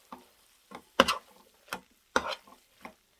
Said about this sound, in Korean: 이렇게 해서 볶아